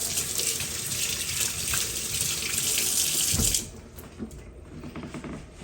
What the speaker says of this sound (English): Let me wash this off a little bit.